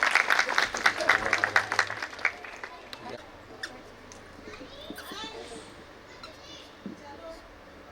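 Audience applause at a 2024 school annual function, a burst of clapping that fades over a few seconds into a murmuring hall with scattered children's voices.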